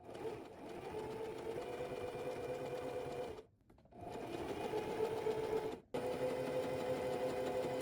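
A sewing machine runs a 1/4 inch base-stitch seam on fabric skate covers, humming steadily in close, loud runs with a brief pause near the middle and a short stop toward the end.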